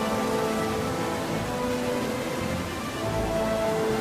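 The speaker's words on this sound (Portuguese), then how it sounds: "a chuva transforma-se em granizo, que anuncia o inverno" Steady, dense rain lashing a surface in the polar north, a loud continuous hiss and patter with a low rumble beneath, unbroken throughout as rain gives way to hail.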